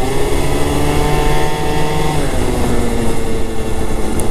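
Motorcycle engine held at high rpm, a loud continuous roar with wind noise and a pitch that shifts slightly partway through.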